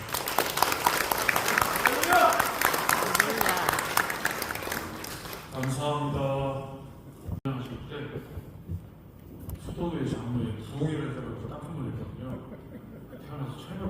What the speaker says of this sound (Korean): 특강이니까 박수로 모시겠습니다